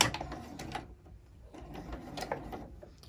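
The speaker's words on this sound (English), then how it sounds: "I do like to back stitch it just so that the thread doesn't come undone as we're using it." Sewing machine back-stitching to close the turning hole of a fabric sunglass pouch, a quick mechanical whirring burst at the start and again near the end, with quieter handling noise in between and no talking.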